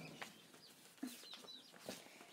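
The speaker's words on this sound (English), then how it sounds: "Okay, here comes some of the chickens." A few soft, scattered clucks and calls from chickens and roosters, faint and somewhat distant, with brief pauses between them.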